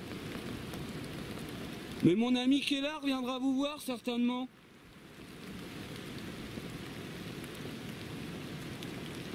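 Steady rain hisses outside an old monastery, a soft continuous patter that carries on alone after someone briefly speaks over it.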